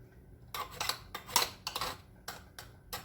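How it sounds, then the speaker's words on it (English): A metal spoon clinks and scrapes against a pot while dipping pears out of old-fashioned pear preserves, producing several close, irregular clatters with no talking. "I'm just dipping the pears, putting them over in there."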